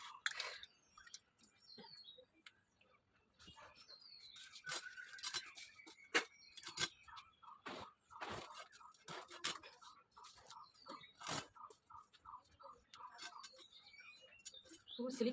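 A whole fish with an oily, slippery body being cut with a knife: repeated sharp ticking cuts and scraping strokes, some in quick runs, close by with faint background noise and no talk.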